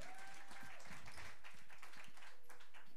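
Audience applause at a school jazz night concert after a jazz combo performance, a faint steady wash of clapping heard at a distance, with a voice briefly audible beneath it.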